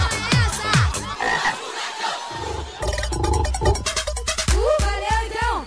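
Frog croaks used as a sound effect in a DJ track, deep repeated croaking bursts layered over dense, loud electronic beats and synth hits, with no talking.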